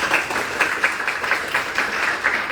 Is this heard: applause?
yes